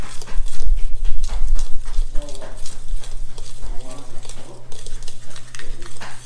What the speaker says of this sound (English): I'm just stirring these things together